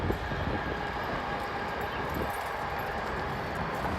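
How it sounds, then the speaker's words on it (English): A freight train rolls past on a street near a bus company office, a steady broad rumble with a faint high whine that holds evenly, fairly distant and unbroken by voices. "Oh, freight train."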